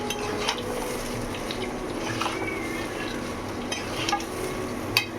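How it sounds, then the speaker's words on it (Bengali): Gobindobhog rice being sautéed and stirred in a pot for pulao, with a low steady sizzle under repeated scraping and clinking of a spoon against the metal pot, close and moderately quiet without voices. "পোলাওর জন্য চালটা আমি এখানে কষছি।"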